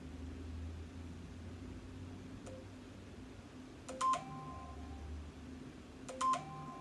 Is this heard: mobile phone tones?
yes